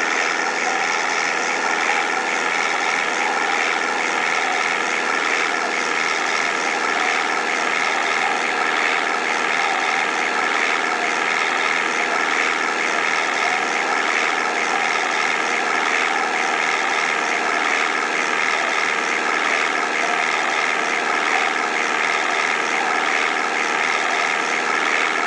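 Aircraft engine in the Flight Simulator Online 2014 mobile game, a steady, even propeller drone holding unchanged throughout, loud and continuous with no talk.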